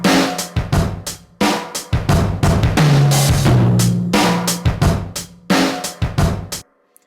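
Loud drum beat with heavy compression on it, punchy kick and snare hits with a tom fill in the middle and squashed, pumping sustain, played alone for several seconds before cutting off.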